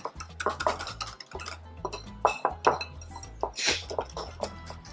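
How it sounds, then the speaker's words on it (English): A mixture with warm melted butter is blended in a bowl, with busy clinking and scraping of a utensil against the bowl and a low, rhythmic mechanical hum beneath. "I'm just gonna keep blending this until it's smooth."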